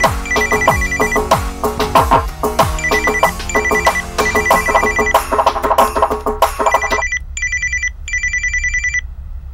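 A mobile phone ringtone plays as a bright repeating melodic tune, loud and close, looping several times before stopping into near silence and then resuming briefly.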